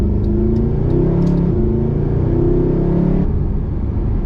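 2013 Mercedes-Benz SLS AMG GT gullwing in Sport Plus mode, engine blipping to match revs on downshifts while slowing: loud close engine rumble rising and falling in short stepped bursts, no talk.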